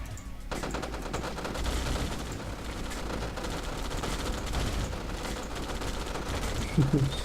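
Tanks and Battle Fortresses fire in a 1v1 match of the strategy game Command & Conquer: Yuri's Revenge, a dense, continuous barrage of gunfire and explosions with no pauses, moderately loud throughout.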